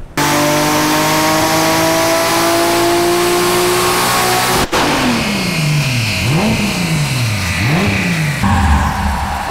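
A turbocharged 2JZ engine swapped into a Mercedes-Benz, boost turned up, holds a loud high rev, cuts off abruptly, then blips through several sharp rising-and-falling revs close by, with no talking.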